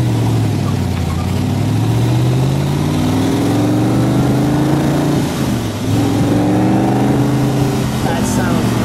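Original 1964 Shelby AC Cobra with its 289 V8 runs loud and close, engine note rising and falling as it pulls through revs, with a dip midway before climbing again.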